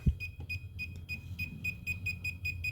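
Circuit tracer receiver held near the source wire feeding off a breaker, giving a steady run of short, evenly spaced high-pitched beeps that repeat quickly and clearly over a low hum.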